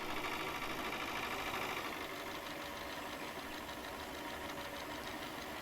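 A tractor engine idles in the Farm Sim video game, a faint, steady mechanical rumble with a soft knocking pulse that runs alone throughout.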